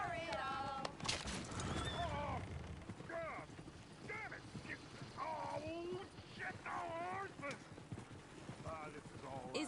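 A horse in the Red Dead Redemption 2 video game whinnies several times over steady hoof clip-clops and wagon bustle, with other game sounds and voices in the background.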